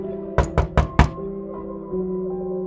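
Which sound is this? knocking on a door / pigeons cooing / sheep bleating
knocking on a door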